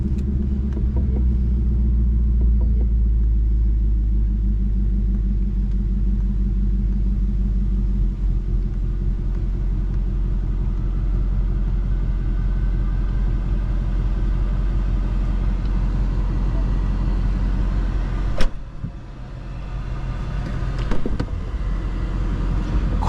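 A 2024 Ford Mustang Dark Horse idles steadily from inside the cabin, a loud deep low rumble with a brief sharper blip near the end, no talking.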